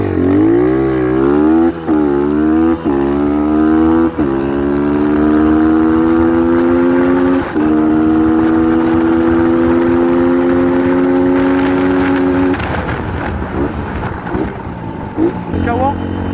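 A Kawasaki dirt bike, likely the 250 KXF, revs hard and climbs through several gears with loud, rising engine notes, then backs off and idles unevenly near the end.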